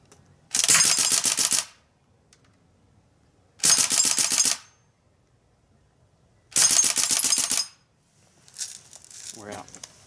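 Umarex EBOS CO2 BB pistol firing three rapid eight-round bursts, each a loud rattling volley lasting about a second, separated by pauses, followed by faint handling noise.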